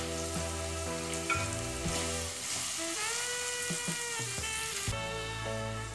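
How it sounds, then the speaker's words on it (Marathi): Mixed vegetables and ginger-garlic paste sautéing in hot oil for veg pulao: a steady, close sizzle with occasional stirring scrapes, running continuously with a faint musical bed underneath. "अशा पद्धतीने आपण तेलामध्ये सर्व भाज्या आणि आलं लसणाची पेस्ट मस्तपैकी परतून घेणार आहोत।"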